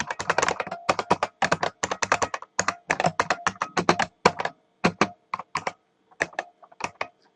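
An SQL query typed on a computer keyboard in quick bursts of crisp, close clicks separated by short pauses, loud and alone with no talk.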